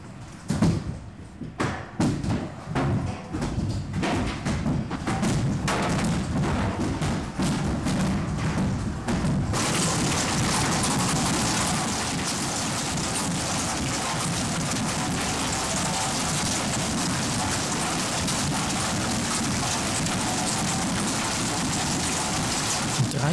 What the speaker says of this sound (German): Das wird wahrscheinlich der Hagel sein. Stimmt. Und der macht auch gleich richtig Krach. Blechdach-Symphonie mit Finale Furioso.